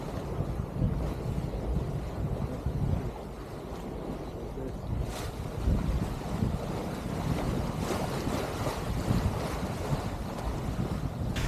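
A sailboat cruises south through the Windward Islands in a light breeze on a flat sea, giving a steady wash of wind and water noise with no voices.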